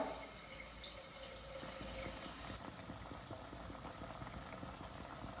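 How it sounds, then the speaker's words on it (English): Half a cup of water poured into a pan of onions in Madras curry spices, giving a soft, steady splashing and sizzle at low volume, close by and uninterrupted with no voices. "we're just going to allow it to gently mix for about a minute to a minute and a half before we add in some water. So about half a cup of water."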